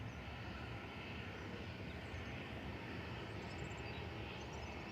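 TUI airliner taxiing along a taxiway at Manchester Airport, a faint, steady distant jet engine rumble and hiss with no other sounds.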